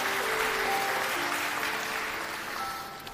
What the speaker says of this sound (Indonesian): Anda boleh tepuk tangan untuk kebenaran ini.